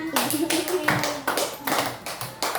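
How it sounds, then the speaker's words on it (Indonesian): A class of students claps in rhythmic bursts, short groups of sharp hand claps separated by brief pauses, with a voice heard faintly beneath. "Kita beri tepuk tangan."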